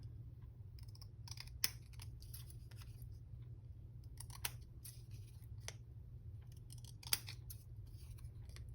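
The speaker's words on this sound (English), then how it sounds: "these scissors cut better on thicker on cardstock" Scissors snip through thick cardstock in a series of sharp, close crisp cuts spaced irregularly over a quiet low hum, with no talking.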